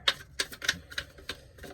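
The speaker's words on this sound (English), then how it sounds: "one more shuffle here" Several quick, crisp riffling snaps of tarot cards being shuffled, spaced in a loose irregular rhythm, close and fairly quiet with no talking.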